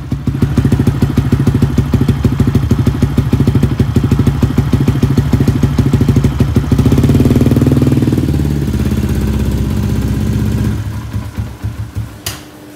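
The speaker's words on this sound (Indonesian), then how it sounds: "Exhaust YY Punk." Yamaha Y15ZR motorcycle fitted with a YY Punk exhaust, loud and close, idling with a rapid lumpy beat, then a quick blip of the throttle into a rising rev before it settles back and cuts off.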